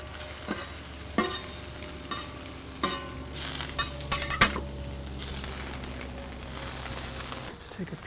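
Bacon and onions sizzle steadily on a hot plancha while a metal spatula clinks and scrapes across the surface in irregular taps, close and fairly quiet.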